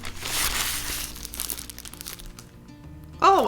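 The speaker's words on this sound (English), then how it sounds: "It's just a plastic bag with a red pattern on it, and inside there is..." A red-patterned plastic gift bag crinkles and rustles close by as it is handled and opened, a continuous rough crackling that eases off before a brief sharp sound at the end.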